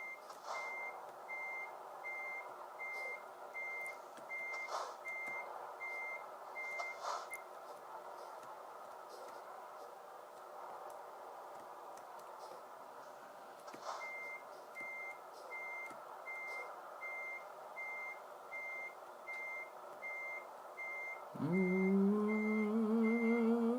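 Steady, evenly spaced reversing beeps from a Volvo FH16 truck in Euro Truck Simulator 2 repeat over a low engine hum, pausing briefly midway before a rising engine tone at the end.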